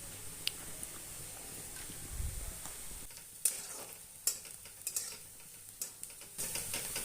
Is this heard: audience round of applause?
no